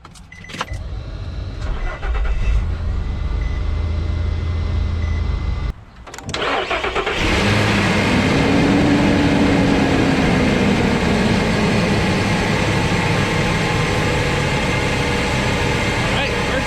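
A car engine is cranked with a WOLFBOX Megavolt24 4000A jump starter. A loud, steady churning runs for several seconds, then after a short pause the engine fires and holds a dense, close-up idle to the end.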